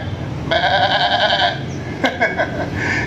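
A goat bleats in a long wavering cry, then gives a couple of shorter bleats, fairly close, over a low rumbling background.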